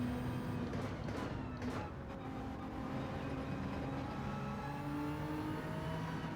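A Nissan GT-R Nismo GT3 race car in Gran Turismo 7 at Lago Maggiore drones steadily with a loud, continuous engine note, shifting pitch as it accelerates through the whole stretch, with no talking over it.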